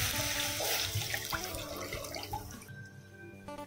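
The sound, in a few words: water poured into pan with mustard seeds and curry leaves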